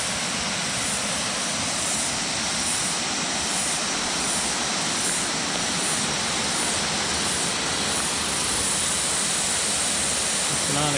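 Tinana Creek flowing, a steady broadband rush of water that holds at an even level for the whole stretch, with no voices over it.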